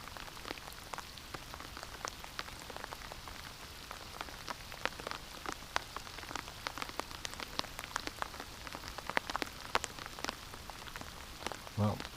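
Rain falling outdoors near a pond where ducks gather, a steady soft patter of drops with scattered sharper taps on nearby surfaces, fairly quiet and continuous.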